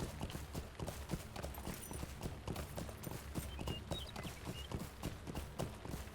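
A steed's hooves clip-clop at a steady brisk rhythm in the Lord of the Rings Online video game, continuous and close, with no talking.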